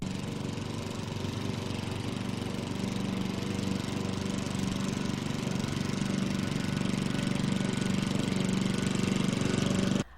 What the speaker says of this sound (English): A gas lawnmower 31 meters or 100 feet away will create a sound level of approximately 75 decibels.